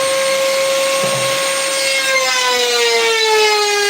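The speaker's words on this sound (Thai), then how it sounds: "กำลังลบเหลี่ยมไม้" A steady, loud grinding rasp of a power tool chamfering wood edges, with a sustained whine that slowly drops in pitch as it bites; no talking.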